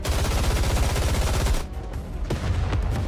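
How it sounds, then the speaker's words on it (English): A dense, loud barrage of rapid automatic gunfire from the video game Goddess of Victory: Nikke hammers continuously for about a second and a half, then breaks off into scattered shots and lingering echoes. "She thrusts her arm forward and a barrage of gunfire erupts."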